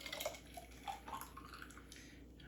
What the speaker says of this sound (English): So I'm going to pour that right into our lemonade.